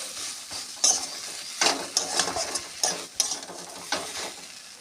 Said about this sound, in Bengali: তেল গরম হয়ে গেছে, এর মধ্যে আমি একটু হিং দিয়ে দেব